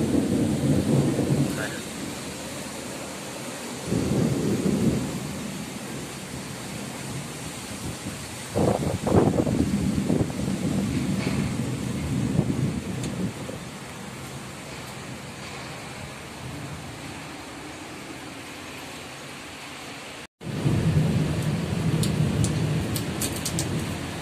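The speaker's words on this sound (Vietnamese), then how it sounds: "Bây giờ bên phía quận 2 là mưa nó đang rất là lớn rồi." Heavy rain with thunder over District 2 after the Mid-Autumn Festival night: a dense, steady downpour with loud, rumbling thunder bursts rolling through, plus a brief sharp dropout near the end before the storm noise resumes.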